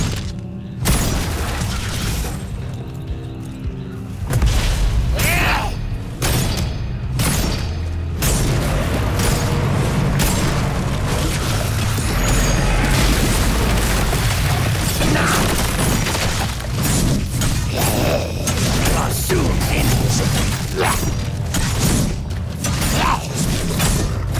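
Orcs Must Die! Unchained battle as enemies break through the gate: a long, loud clatter of mechanical impacts, crashes and grinding, dense and continuous.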